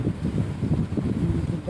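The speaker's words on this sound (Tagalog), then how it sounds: "Ang sobrang lakas ng hangin." Very strong wind buffeting outdoors, a low rumbling roar with gusty pulses dominating the low end, close and loud, with some faint voice-like sounds mixed in.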